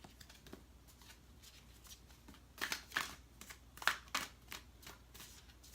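A deck of tarot cards being shuffled by hand, with soft riffling and sliding noises that build into a few sharper, louder bursts of card flicks near the end, heard close up with no talking.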